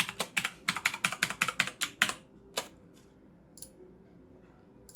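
Someone types a password on a computer keyboard: a quick, even run of about a dozen crisp key taps, then a few scattered isolated presses trailing off into a quiet room, close and clear with no talking.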